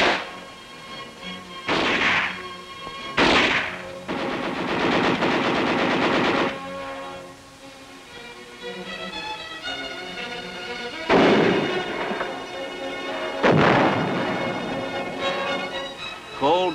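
Soldiers in snow fire machine guns and artillery during cold-weather combat training: heavy bursts of automatic fire and booming blasts come in separate loud volleys with short gaps between them, and some narration is heard.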